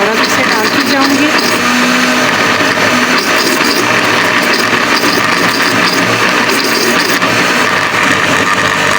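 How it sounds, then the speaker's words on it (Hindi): A kitchen grinder-blender whirs steadily while homemade mayonnaise is mixed with oil added, a loud continuous motor drone throughout with no pauses. "मैंने इसमें कुछ और ऑयल डाल दिया है और मगर ग्राइंडर को बंद नहीं किया"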